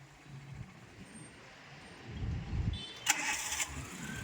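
A manual car's engine rises as the clutch is released and the accelerator pressed, a low rumbling rev building over a few seconds, followed by a brief higher-pitched whine near the end.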